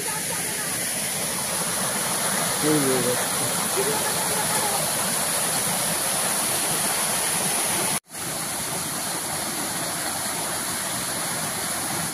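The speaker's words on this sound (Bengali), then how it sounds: "দাঁড়িয়ে আপনাদের দেখাচ্ছি ঝর্ণাটা, আপনারা দেখুন, ভালো লাগবে" Dangi Kusum waterfall at Belpahar, Jhargram, gives a loud, steady broadband rush of falling water for the whole stretch, dropping out for a moment about two-thirds of the way through.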